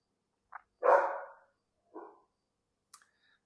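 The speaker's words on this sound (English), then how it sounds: "The dogs are pretty excited about something." Dogs on a hunting trip let out a few sharp, excited barks, one louder bark followed by a softer one and a small yip, fairly faint and with quiet gaps between them.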